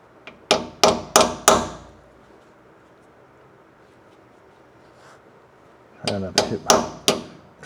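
A hammer smacks a part on a 2006 Chevrolet Colorado during a rear differential fluid change, with four sharp, loud metallic blows in quick succession, a quiet pause, then another rapid run of five strikes.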